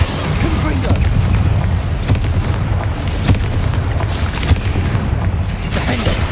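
Confringo spell explosions in the Hogwarts Legacy video game: repeated booming blasts and bursts rise from a dense, continuous rumble of game sound, loud and close throughout.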